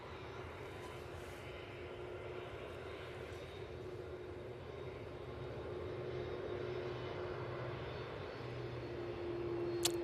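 A jet airliner at Manchester Airport, heard as a steady broad engine roar from a distance that swells gradually louder toward the end, with no talk over it.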